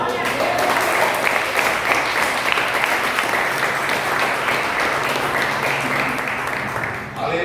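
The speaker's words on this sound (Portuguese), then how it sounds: "Vamos aplaudir." Sustained applause from a large church congregation fills the space, a dense steady roar of clapping that holds for several seconds before tapering at the end.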